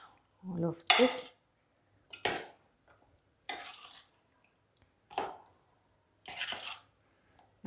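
Chicken marinated in a bowl being mixed with a blended curry paste and a little water, heard as scattered wet squelches and clinks of a spoon on the bowl, in short bursts separated by quiet pauses.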